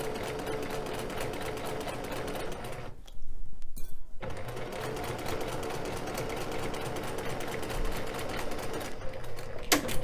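Sewing machine stitching quilt strips together, a steady close whirring run nearly the whole time with a brief pause partway through, no talking.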